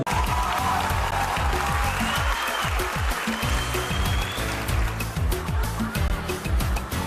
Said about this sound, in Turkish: Seyirciden kendiliğinden alkışlar geliyor.